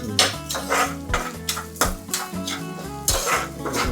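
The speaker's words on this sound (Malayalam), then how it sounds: "അപ്പോൾ ഇതിങ്ങനെ ഇളക്കി കൊടുക്കുക." A spoon stirs pappadam thoran in a pan in a Kerala kitchen, making a regular rhythm of close metallic clanks and scrapes, loud and alone, with no voices.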